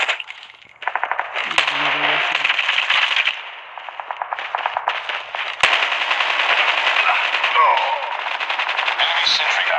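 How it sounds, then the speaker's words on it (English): Rapid automatic gunfire from a sentry gun in Call of Duty Mobile, loud continuous rattling bursts over several seconds with a brief break, mixed with game effects and a short burst of speech. "Enemy sentry gun has been destroyed."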